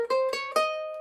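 Three plucked ukulele notes ring out alone in quick succession, a short phrase of God Save Our Queen picked on a single string, each note sustaining briefly before the next.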